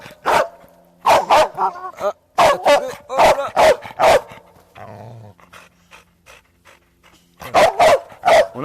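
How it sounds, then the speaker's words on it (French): An aggressive Belgian Malinois shepherd dog barks in loud, close bursts of several sharp barks, pausing for a panting stretch before barking again, with a person's brief speech among them. "C'est son chien."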